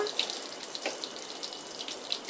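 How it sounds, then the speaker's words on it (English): Room-temperature water poured steadily onto a potted fiddle-leaf fig, a continuous soft splashing trickle with faint drips, close and even throughout. "so we're watering that all the way through"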